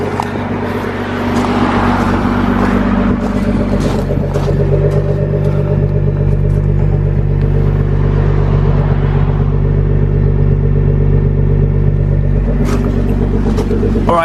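Nissan GT-R R35 with an Armytrix valved exhaust idles close behind the car, a loud steady low drone with a slight rise after the first second, no talking.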